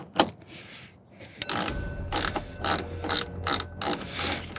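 A ratchet clicks in quick repeated strokes, loosening headlight bolts on a car; close, crisp bursts after a brief opening click and a short pause.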